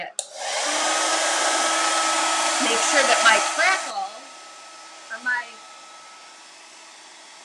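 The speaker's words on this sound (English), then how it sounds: "I'm going to go ahead and turn on my blow dryer for a second." A hair dryer blows steadily for about four seconds while drying a freshly painted garden planter, then cuts off; a voice talks over it, and brief speech follows.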